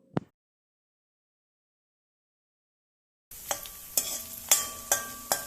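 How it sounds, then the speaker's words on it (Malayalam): Ginger and garlic sautéing in hot coconut oil, a sizzle that starts after a long silence and carries several sharp stirring clinks and scrapes close by, preceded by a single brief knock. "അതിലേക്ക് ഇഞ്ചിയും വെളുത്തുള്ളിയും ഇട്ട് വഴറ്റിയെടുക്കുക"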